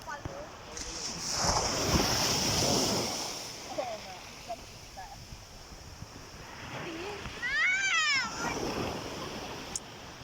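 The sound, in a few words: sea waves at the seaside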